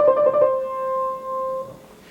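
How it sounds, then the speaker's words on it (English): A single keyboard line plays a Bach ornament, a descending trill combined with a turn: a rapid flurry of alternating notes, then one clear sustained tone that rings and fades, played alone. "Think of this one as a turn plus a trio, and that's exactly how you would play it"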